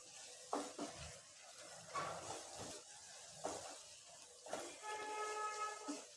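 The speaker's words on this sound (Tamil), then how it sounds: "இந்த மசாலாவை சேர்த்து நல்லா கலந்து விட்டுறலாம்" A spoon stirs egg masala with ground spice powder in a pan, a steady sizzle and hiss broken by repeated scraping strokes, quiet and close.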